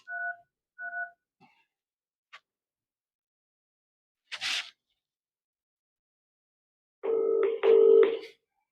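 Telephone keypad dialing tones while calling a number: a few short, evenly spaced beeps, then faint clicks, a soft rustle and a louder pair of tones at the end, all close and clear with no talk.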